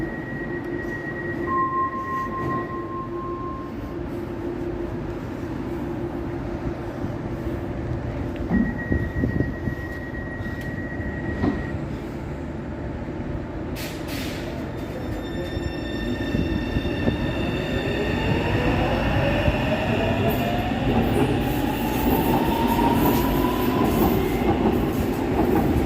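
A new DLR B23 stock train runs near West Silvertown, London: a steady rolling rumble with faint clicks and tonal hums, then a rising electric motor whine as it accelerates. Everything grows louder toward the end.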